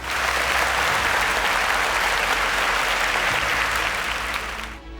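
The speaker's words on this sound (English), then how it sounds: "All my Super Sparks got the correct answer. Round of applause for them." Studio quiz-show applause for students who gave the correct answer: a full, even burst of clapping that continues for several seconds before dropping off at the end.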